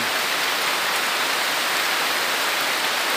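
Steady rain falling in a forest during a monitor lizard hunt with a dog, a dense even hiss of drops close around, constant and loud with no voices.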